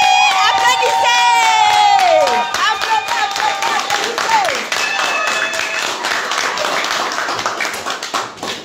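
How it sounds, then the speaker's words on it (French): Crowd at a Paris installation ceremony breaking into applause and cheers, with claps and shouts filling the room loudly over steady crowd noise, a few voices whooping over it. "Applaudissez!"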